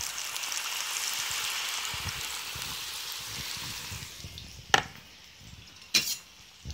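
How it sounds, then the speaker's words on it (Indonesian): Vegetable fritters (bakwan sayur) frying in hot oil, a dense steady crackling sizzle that fades slightly, broken by two sharp metallic clinks of a utensil near the end. "digoreng sampai mateng lah pokoknya ya pemirsa, sampai mateng"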